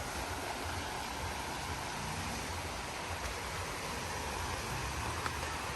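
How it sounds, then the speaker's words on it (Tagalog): River stream flowing in a rural Philippine setting, a continuous even rush of water that stays steady throughout, alone with no talk. "Ito yung update ng ilog natin."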